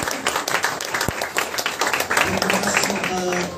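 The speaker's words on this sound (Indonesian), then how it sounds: "Tepuk tangan buat vokal." An audience at a Christmas church gathering in Makassar claps for the singers, a dense, steady patter of many hands filling the whole stretch, with a few tonal music notes and voices underneath.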